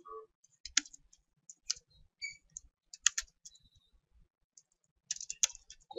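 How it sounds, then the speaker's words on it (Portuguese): Typing the word "olá" on a computer keyboard, then a few more scattered keystrokes: light, close plastic key clicks in short irregular bursts with gaps, and a quicker cluster near the end, no talking. "vou digitar aqui"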